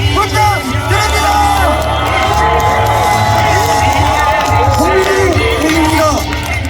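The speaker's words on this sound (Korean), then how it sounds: "마지막으로 가장 큰 함성과 박수를 부탁드립니다" Huge crowd at a Korean presidential campaign launch rally roaring, cheering and yelling continuously, dense and loud throughout, with excited voices shouting over the din.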